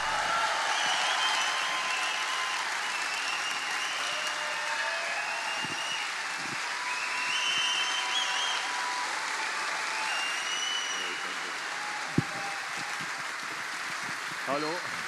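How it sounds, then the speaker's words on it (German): Steady, sustained audience applause filling a conference hall at a peace conference in Wasserburg, welcoming a speaker onto the stage, with no voices over it. "Ich bitte jetzt um einen herzlichen Applaus für dich, lieber Daniele"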